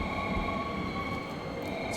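A train rumbles steadily at a Japanese railway station on a trip through the Kyoto region, a continuous low drone with faint high whine, close and constant with no talk.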